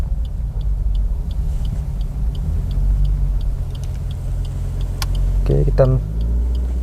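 A car engine pulls away uphill in first gear on a half-engaged clutch during a driving lesson, a low steady rumble running throughout with a faint rhythmic ticking, and a person speaks briefly near the end.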